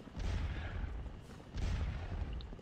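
Cannons fire in the Scourge of War Waterloo game: two deep, rumbling booms roughly a second apart, each rolling out into low sustained thunder, with no talk over them.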